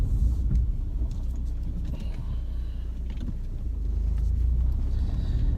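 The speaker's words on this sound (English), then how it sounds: "Oh, just let this car go past." A car passes close by on a road, a steady low rumble that swells slightly toward the end, with no talk over it.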